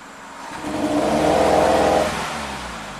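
A 2008 Suzuki SX4 engine with low power revs up at half throttle, the drone rising to a peak and then easing back, loud and close.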